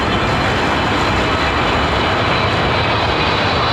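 Boeing 777 arriving on Heathrow runway 27R, a loud, steady roar of jet engines filling the whole stretch with no break.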